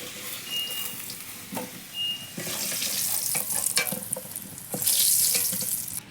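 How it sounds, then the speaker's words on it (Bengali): Fried potatoes sizzling in oil as they are lifted out, with a bubbling hiss, scraping and clattering, and a louder burst of sizzle near the end, close up and without talk. "আলু ভাজাটা হয়ে গেছে, এবার আলু ভাজাটা তুলে নেব।"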